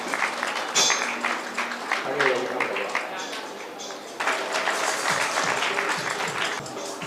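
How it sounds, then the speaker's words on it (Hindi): Audience applause at a Good Friday gathering: a dense, steady wash of clapping from a crowd, fairly loud and sustained for several seconds, swelling again midway, with voices mixed in. "तालियां मारिए।"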